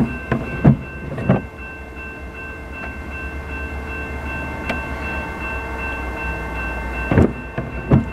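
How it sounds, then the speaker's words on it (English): A Herzog maintenance work train rumbles past in a steady low drone with a faint sustained tonal hum, broken by a few sharp clanks and thumps from the cars, heard from a short distance without speech. "Got another work train coming."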